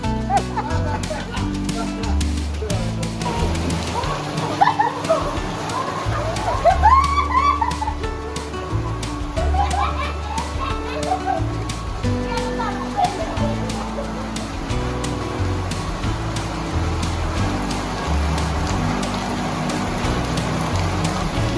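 Rain falls steadily beneath lively talk, with occasional clucking fowl and distant sounds mixed into the wet backdrop.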